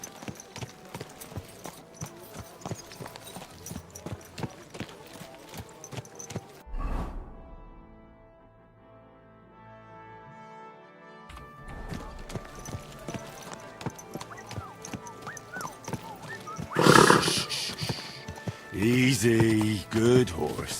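In the video game Kingdom Come Deliverance 2, a horse's hooves clop steadily, pausing briefly and then resuming. A whinny follows later, with louder bursts of movement near the end.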